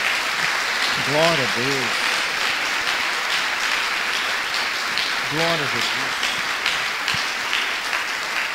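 A church congregation claps steadily and loudly throughout, while a voice twice calls out short words of praise over the clapping.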